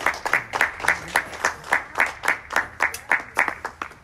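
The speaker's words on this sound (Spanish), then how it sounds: "Un aplauso a sí sabe trabajar" Steady rhythmic clapping, about four claps per second, led by one or two people and fairly close, with no other sound over it.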